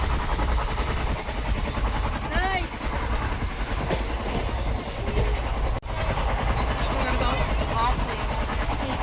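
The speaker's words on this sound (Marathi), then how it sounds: "थांबल्यानंतर आपली ट्रेन आलेली आहे." A passenger train pulls into Karjat station with a continuous loud rumble, rhythmic wheel clatter and brief squeals, while people chatter faintly on the platform nearby.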